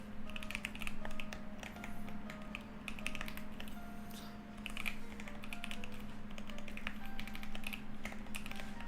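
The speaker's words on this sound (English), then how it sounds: "I'm not used to typing on this fucking keyboard" Bursts of quick, light keystrokes clatter on a computer keyboard, uneven and close, with short pauses between runs and a faint steady hum underneath.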